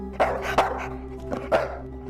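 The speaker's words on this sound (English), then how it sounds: "I hear a dog bark." A dog barks several times nearby in short, sharp bursts at an uneven pace, over a low steady hum.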